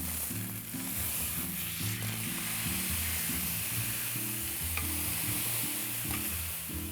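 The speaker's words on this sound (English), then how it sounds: "while we're browning the other side of our chuck roast" Chuck roast browning in a hot pan, a steady close sizzle and crackle of searing beef that runs throughout at an even level, with a low background hum and no talk.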